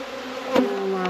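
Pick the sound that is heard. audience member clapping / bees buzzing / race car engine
bees buzzing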